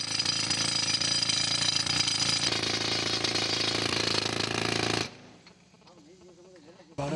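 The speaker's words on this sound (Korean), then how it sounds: "엄청난 소음과 분질, 그리고 기계의 진동을 광부들이 온몸으로 견뎌야 하는 고된 작업" Rock drill boring into marble deep underground in a Makrana mine, India: a loud, dense, continuous hammering drone filling about five seconds, then cutting off abruptly to a quieter, hollow space with faint sounds.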